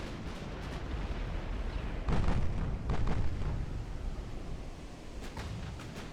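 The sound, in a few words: naval gunfire from 12-inch and 9-inch guns in video game Ultimate Admiral Dreadnoughts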